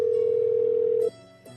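A telephone line tone plays during a call transfer: one steady, clear, unbroken tone that holds for about a second, then drops and shifts into a quieter, different tone that changes again shortly after.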